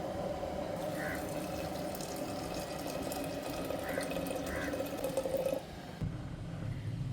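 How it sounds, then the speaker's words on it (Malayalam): Water pours steadily into a metal pressure cooker holding lentils for several seconds, a continuous rushing stream that stops near the end. "ഇതിൽ വേവാൻ ആവശ്യത്തിനുള്ള വെള്ളം ഒഴിക്കും കേട്ടോ"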